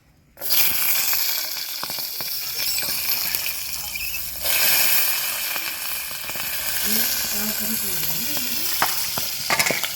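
Peas dropped into a pan of fried parshe fish set off a loud, steady hot-oil sizzle that swells sharply at the start and again midway, with stirring scrapes and a soft voice underneath.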